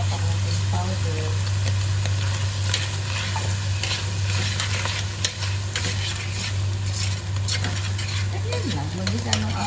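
Mushrooms and cream cooking for carbonara in a pan, a continuous close sizzle and bubbling over a low hum, with frequent scraping of a spoon stirring and a voice speaking briefly.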